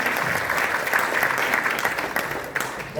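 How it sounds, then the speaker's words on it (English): An audience at a hypnotherapy conference applauds steadily for about three seconds, a dense wash of many hands clapping at even loudness from start to finish with no voices standing out. "Please give them a big round of applause."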